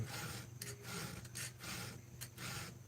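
A chainsaw chain being sharpened with a hand file, a series of rhythmic rasping strokes, each roughly half a second, close up and fairly quiet with no talk.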